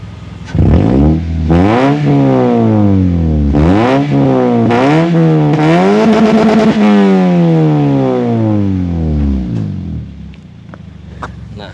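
Fifth-generation Toyota Vios with a double exhaust revved up to around 1000 RPM in a series of rising engine sweeps, close and loud, the revs climbing repeatedly before settling back and fading near the end.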